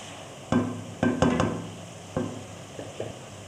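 Masala spices being fried and stirred in a pan for spinach and turnip, a soft sizzle under a handful of sharp scraping knocks from the spoon against the pan at uneven intervals, with no talk.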